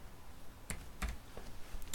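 Several separate key presses on a computer keyboard as a date is typed into an MLA-format essay, a few crisp clicks spaced irregularly and heard close by with no talking.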